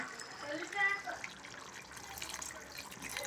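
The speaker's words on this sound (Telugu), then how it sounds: "కొన్ని వాటర్ అయితే వేద్దాం." Water splashes and trickles briefly into a pot of chicken curry, with a voice talking nearby and faint household noise.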